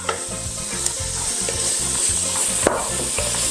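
Onion, celery, leek and carrots fry in a pan with a loud, close, continuous sizzle, while a utensil stirs and scrapes in a steady rhythm.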